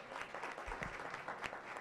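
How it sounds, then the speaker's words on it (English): Audience applause at a youth cybersecurity training program launch in Kenya, a short burst of clapping from a crowd that stays fairly steady throughout. "We can clap for him."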